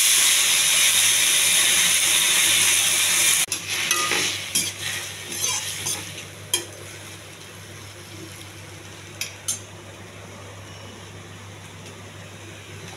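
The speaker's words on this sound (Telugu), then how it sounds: "ఇవన్నీ కొంచెం దోరగా ఎగించాలి, మాడకుండా ఎగించాలండి." Sliced ivy gourd (dondakaya) fries in a pan with a loud, steady sizzle, which gives way to quieter hissing broken by scattered scrapes and clinks of stirring.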